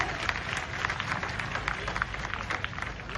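A crowd at a Hindu gathering, seated on the ground, clapping together, a dense, even patter of many hands at moderate distance, sustained throughout without a break.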